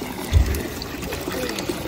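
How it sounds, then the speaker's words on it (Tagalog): Free drinking water trickles and splashes as Ronald fills a bottle at a public tap in Switzerland. A short thicker gush comes first, then a steady, fairly close dribble with no talking. "kukuha si Ronald guys ng tubig"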